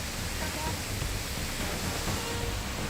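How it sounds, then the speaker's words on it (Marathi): Swollen Surya river water pours over the Kawdas dam in Palghar district after days of heavy rain, a continuous, dense roar of rushing water with no letup. "सूर्या नदीवर जो कवडास बंधारा जो आहे तो ह्या ठिकाणी ओव्हरफ्लो झालेला आहे"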